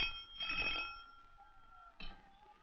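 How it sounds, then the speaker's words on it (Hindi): An old-fashioned telephone bell rings in a 1960s Hindi film scene: one bright, rattling ring, a pause, then the start of a second ring, with no talking. "यूर हाइनेस इलेक्शन कमिश्नर का फोन"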